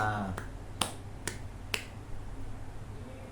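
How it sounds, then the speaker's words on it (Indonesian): A few sharp hand claps or snaps from a class during an Indonesian language lesson, four distinct crisp hits spaced about half a second apart over a low background hum, with no talking. "tepuk tangan untuk kita semuanya"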